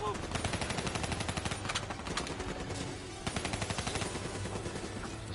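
Rapid automatic gunfire in the Call of Duty: Black Ops campaign comes as fast, evenly spaced bursts, fairly quiet overall, with a brief lull near the middle before the shooting resumes.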